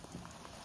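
Steady rain falls outdoors on a morning dog walk, a dense even patter of drops hitting the ground, with no voices.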